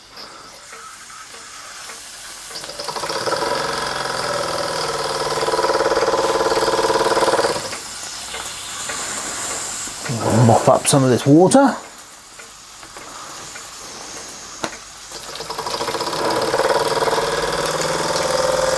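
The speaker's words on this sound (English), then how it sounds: "small vertical boiler model steam engine running like a trooper." A Wilson Brothers small vertical boiler model steam engine runs with a steady hiss and soft chuffing, joined by a brief burst of sizzling and bubbling mid-clip, while a person talks nearby.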